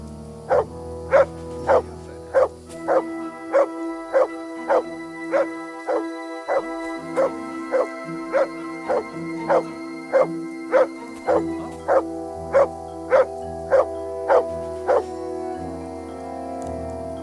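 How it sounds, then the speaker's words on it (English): A dog in the video game Kingdom Come: Deliverance II barks on command, a long run of evenly spaced, sharp barks about every half second, close and loud, over a low ambient game drone. "Sit and bark."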